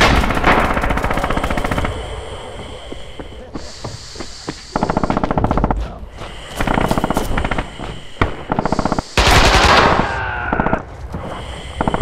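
Bursts of automatic gunfire from the Red Orchestra 2 war game, loud, rapid stuttering volleys with short pauses between, near and dense, with no talk over them.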